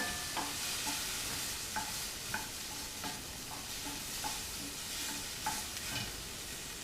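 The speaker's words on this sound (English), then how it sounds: "add a little bit of water. It's going to steam up on us." Brussels sprouts and onions steaming and sizzling in a pan after water is added, a steady hiss with repeated light stirring scrapes at a regular pace, close and moderately quiet.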